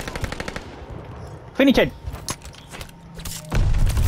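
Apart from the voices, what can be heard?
gunfire in a shooting video game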